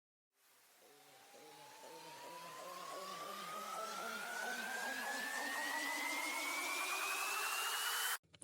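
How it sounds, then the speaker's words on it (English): An electronic riser in a hectic EDM drop, a steadily climbing synth sweep over pulsing rhythmic layers that grows louder for about eight seconds before cutting off abruptly. "Then I have some risers."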